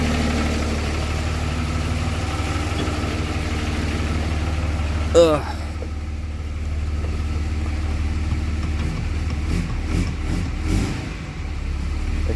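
A swapped HO Cummins diesel engine idles steadily on its first start, a continuous low rumble with a brief voice over it and a slight rise in revs near the end.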